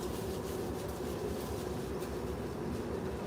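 A train passes at a distance through foliage on a nature walk, a low steady rumble with soft rhythmic rolling, faint and continuous with no speech.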